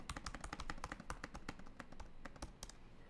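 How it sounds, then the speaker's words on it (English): Quick, irregular clacking of keys on a computer keyboard, close and fairly quiet, with dense bursts of taps continuing the whole time and no voice. "we can type whatever we want"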